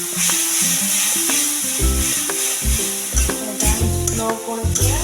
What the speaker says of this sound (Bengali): স্লো করে মশলাটা কষবো।